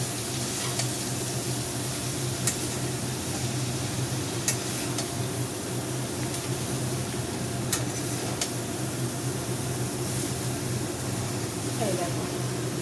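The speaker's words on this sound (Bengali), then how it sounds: "এবারে গ্যাসটা একটু কমিয়ে এবার এটাকে মেশাবো" Chow mein frying in a pan on a gas stove, a steady sizzle with occasional scrapes and taps of a spatula as the noodles are stirred.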